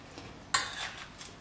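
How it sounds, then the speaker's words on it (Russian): A sharp clink of a utensil against a bowl, followed by soft scraping and tossing sounds of salad being stirred, fairly close and quiet. "Потихоньку перемешиваем"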